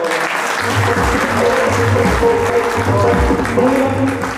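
A crowd applauds loudly and steadily, with dense clapping filling the whole stretch and a few cheers mixed in.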